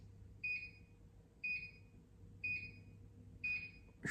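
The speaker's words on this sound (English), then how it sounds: "I'm sorry if you have pets or dogs that are now going mental at the timer" A kitchen timer alarm beeps four times in a steady rhythm about one second apart, each a short bright electronic tone over a low indoor hum, with no talking.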